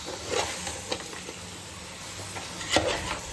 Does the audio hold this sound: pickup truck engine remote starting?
no